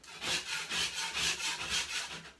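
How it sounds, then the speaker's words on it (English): A trowel scrapes layers off a ceiling in rhythmic rasping strokes, about five close, even passes with brief pauses between, and no talking. "scraping with your trowel does wonders"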